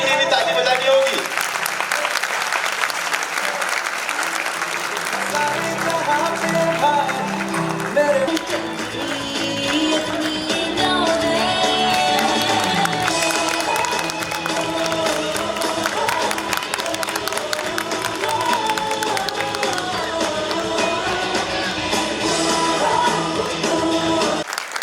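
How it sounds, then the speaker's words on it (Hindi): Audience applause with some cheering at a community cycle giveaway for a girl from a poor settlement, a dense sustained clapping crowd lasting the whole stretch, mixed with voices and music. "जोरदार तालियां बजती रहनी चाहिए"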